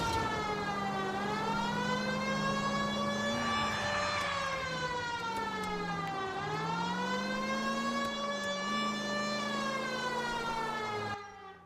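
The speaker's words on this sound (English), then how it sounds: "Have you got something against the siren?" Police car siren in the video game L.A. Noire, a loud wailing tone rising and falling in slow sweeps under engine noise, continuous until it cuts off at the end.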